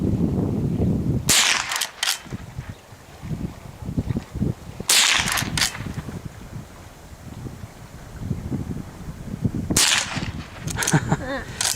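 A Henry Golden Boy .22LR rifle fires at targets outdoors in three separate bursts of sharp cracks, each a quick cluster of two or three shots, with wind noise and a voice talking between them.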